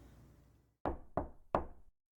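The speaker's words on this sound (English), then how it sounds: "there was a knock at the door." Three firm knocks on a door in the video game Steins;Gate 0, close and loud, evenly spaced after a faint quiet stretch, each with a short ringing decay.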